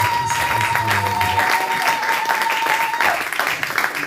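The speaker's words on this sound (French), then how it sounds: "Applaudissons pour les Seigneurs." A church congregation at a Sunday thanksgiving service applauds, a loud, sustained wash of clapping with a voice and a steady tone beneath it at first.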